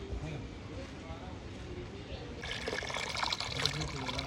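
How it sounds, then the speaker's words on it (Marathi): Clean water runs steadily onto leaves as they are washed, a soft trickle that swells into a brighter, louder splashing stream partway through. "तर आता आम्ही मस्त पानं स्वच्छ पाण्याने धुवून घेणार आहेत."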